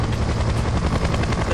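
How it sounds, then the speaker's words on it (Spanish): Helicopter in the Splinter Cell Conviction video game: a steady, loud, broad rotor roar with rapid pulsing chop that fills the whole moment without any break. "Hay que esconderse sobre todo del helicóptero."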